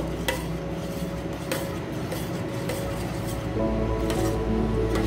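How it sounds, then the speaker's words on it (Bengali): Payesh made with palm fruit is stirred in a pot, giving a steady low bubbling background with a few sharp metallic clinks of the spoon against the pot, close by. "এটা আমি পায়েসে দিয়ে দেবো। ভালো করে নাড়িয়ে নেব।"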